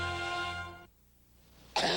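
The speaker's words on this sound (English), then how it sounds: "cough's getting worse." A sustained harsh cough in a cough medicine commercial, close and fairly loud, followed by a pause and then the start of another cough burst.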